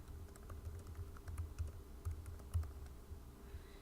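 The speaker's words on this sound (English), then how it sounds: "And I'm just going to type" Steady typing on a computer keyboard while entering text in Photoshop, a quiet run of soft clustered key clicks with a few louder strokes, no voices over it.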